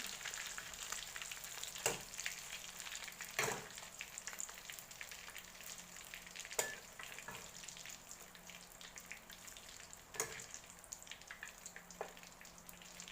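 Shell-on shrimp, split down the back, deep-frying in hot oil, a steady crackling sizzle with several sharp pops and bursts standing out over the continuous bubbling.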